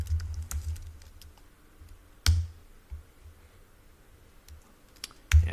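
Keys clicking on a computer keyboard in short, irregular bursts, with a few louder taps standing out among quieter strokes, close and alone in a quiet room.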